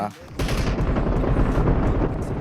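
Dense, rapid automatic fire from an M249 machine gun in PUBG Mobile. It starts after a short pause and then rattles on continuously, loud and close, with faint voices underneath.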